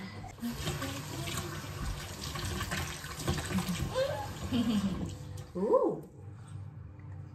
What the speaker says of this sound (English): Then wash your hands.